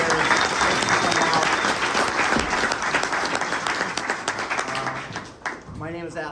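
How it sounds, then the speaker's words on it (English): An audience at a live AI roundtable lightning talk gives a sustained round of applause, steady dense clapping that tapers toward the end as a voice begins speaking. "let's give a big round of applause for Justin"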